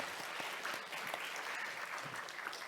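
Steady applause from a church congregation, a continuous patter of many hands clapping at moderate volume with no talking.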